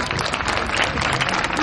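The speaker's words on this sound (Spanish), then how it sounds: "Los despedimos con un fuerte aplauso" Audience applause closing a performance at an evening event, a dense continuous patter of clapping hands held at steady loudness throughout with no talk over it.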